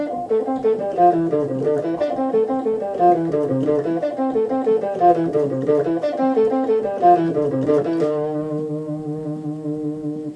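A clean electric guitar riff from the Regular Show party theme, played at a relaxed tempo, picked notes moving in a repeating pattern before settling into a held chord.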